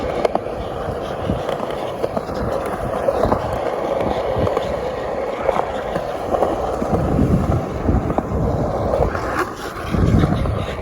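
Roller skates, Moxi Lollies, roll continuously over concrete at an outdoor skate park, a close, rough wheel rumble with swells and dips as speed changes, and some wind buffeting the microphone.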